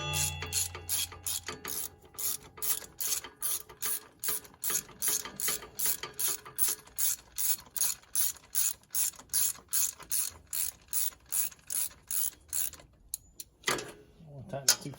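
Close, rapid clicking of a hand ratchet tightening a starter bolt on a John Deere 5075E tractor, about two dozen evenly spaced strokes in a steady rhythm, ending with a few looser clanks.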